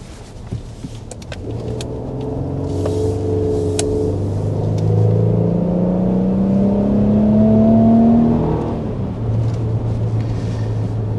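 A 2025 Infiniti QX80 SUV in sport mode rounds a corner, its engine humming and rising steadily in pitch through the turn, a smooth, moderately loud drone heard from inside with no talk.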